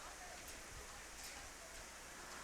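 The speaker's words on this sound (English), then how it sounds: "this rain is just not stopping today" Rain falling steadily on a baseball field during a youth travel game, a faint, even hiss of rainfall with a few soft low thumps underneath and no distinct voices.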